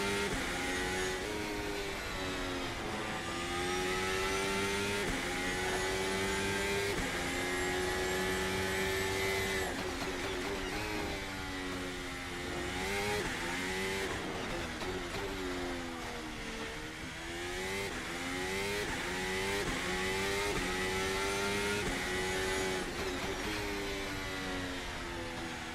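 A Formula Alpha open-wheel race car engine in the VRC racing sim screams continuously at high revs, its pitch rising and falling through upshifts and downshifts, heard alone without talk.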